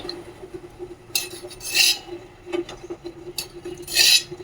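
A metal wok set back onto a gas stove while making poha halwa with ghee: a few sharp clinks and scraping clatters of metal on metal, close by, with quiet gaps between them.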